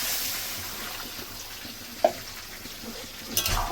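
Water poured into spices frying in a pan for a Bengali rohu fish curry with raw banana and potato, giving a steady hiss and sizzle throughout with a single brief clink near the middle.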